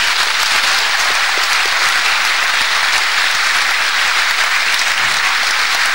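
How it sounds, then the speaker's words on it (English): Graduation ceremony crowd applauding 378 graduates, a loud, dense, continuous wash of many hands clapping with no voices. "Let us give them a huge round of applause."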